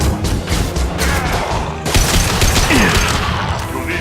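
A volley of gunfire and crashing impacts from a firefight in the Mass Effect video game, dense and continuous, with a loud burst of shots about midway through.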